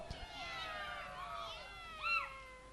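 Human voice imitating a cat's meow: a faint, drawn-out mewing call that wavers, then ends in a brief, louder rising meow.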